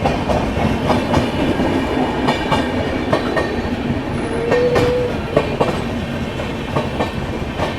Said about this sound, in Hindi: राजधानी एक्सप्रेस नई दिल्ली से डिब्रूगढ़ अभी आ रही है